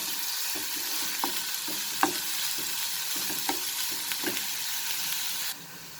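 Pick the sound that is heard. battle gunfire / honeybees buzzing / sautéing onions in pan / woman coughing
sautéing onions in pan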